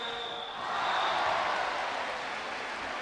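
A basketball crowd at a Clesa Ferrol versus FC Barcelona game cheers for player Nate Davis, a broad roar that swells and then fades over a few seconds, heard from the arena at a moderate distance.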